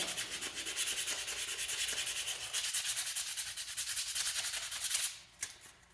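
Steady, close sanding strokes rasp along the edge of a forged railroad spike tomahawk head, repeating rapidly for about five seconds before a few final scrapes, with no talking.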